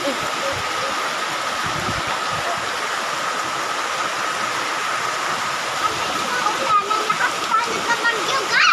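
Water gushes steadily from a tap into a washbasin, a continuous close rushing splash that swells slightly near the end, with voices faintly in the background.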